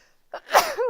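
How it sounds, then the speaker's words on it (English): A single person's sneeze during a live punch needle crafting session, with a short inhale followed by a louder burst that trails into a vocal tail; close and fairly loud, no other talk. "Oh man, I'm gonna sneeze, I think."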